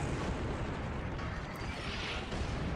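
Weapons fire in Arma 3 with a Warhammer 40k mod, heard as a dense, continuous wall of rumbling gunfire and booms, steady and fairly subdued, with no distinct separate shots.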